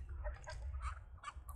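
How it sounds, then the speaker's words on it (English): Chicken clucking inside the Texas Chainsaw Massacre video game: a few short, bright bird-like calls spread across the moment over a steady low rumble, fairly faint and without talk. "Oh my gosh, it's chicken, bro."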